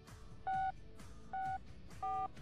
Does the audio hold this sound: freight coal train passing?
no